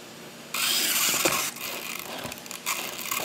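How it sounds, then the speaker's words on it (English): A hand spray bottle of water gives several quick hissing bursts, close and loud, while misting an arboreal enclosure being set up for a rehousing. "And give it a really, really, really good spray."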